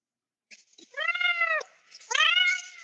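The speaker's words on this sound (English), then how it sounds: "I assume that was a cat." A cat meows twice inside Hanoi's military museum, each call a clear, fairly close, drawn-out cry, the second louder and higher, with silence before and between them.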